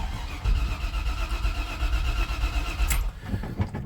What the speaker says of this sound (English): Been a long time since I've started this truck.